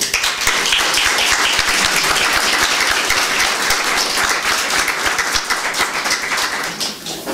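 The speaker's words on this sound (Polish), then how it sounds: "Zatem wielkie brawa." An audience claps at a poetry evening, dense sustained applause that stays loud and even for several seconds before easing slightly at the end.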